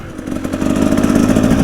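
A Husaberg TE 300 motorcycle's small engine runs close by, a loud, throbbing idle that rises slightly in pitch and volume as it is blipped.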